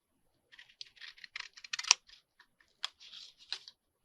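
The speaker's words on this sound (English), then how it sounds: "We're going to cut this off like we did with the fabric." A packaging cover is cut off with a series of crisp, close snipping clicks in irregular bursts, quiet and alone with no talking.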